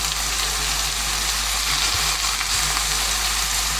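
Endives and sausages brown in a pan with a steady, dense sizzle of frying throughout, close and continuous with no voices.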